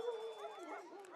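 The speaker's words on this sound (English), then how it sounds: "The dogs are barking." Dogs bark and yip at a baseball game, a short, faint burst of high yelps and whines heard at a distance amid the ballpark murmur.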